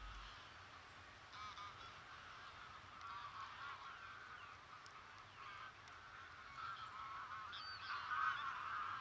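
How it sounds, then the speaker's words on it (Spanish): A large flock of geese feeding in cereal fields at Villafáfila honks continuously at a distance, a dense chorus of overlapping calls that swells slightly toward the end. "Miles de gansos invaden los campos de cultivo para alimentarse de los cereales"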